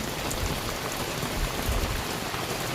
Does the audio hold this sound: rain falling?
yes